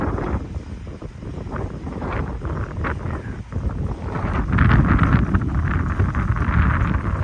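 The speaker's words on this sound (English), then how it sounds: "Really windy here." Gusty wind buffets the microphone outdoors during a binoculars test, with a constant low rumble that swells louder toward the end.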